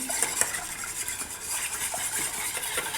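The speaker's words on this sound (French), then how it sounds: "Dans le lait froid, je rajoute les jaunes d'œufs. Je touille, je mélange" Egg yolks being whisked or stirred into cold milk in a bowl, a steady soft scraping and swishing with faint clinks of utensil against the bowl, continuous at moderate level with no talking.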